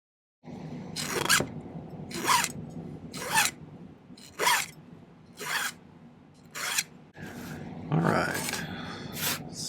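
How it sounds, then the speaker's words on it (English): Excess silver sheet is trimmed by hand, giving about nine evenly spaced rasping cuts in a steady rhythm, close and clear with no voices. "I'm just going to trim off the excess sheet."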